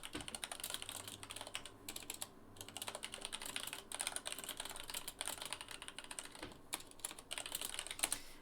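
Steady, rapid keyboard typing, close and fairly quiet, with irregular bursts of keystrokes continuing throughout and no talking.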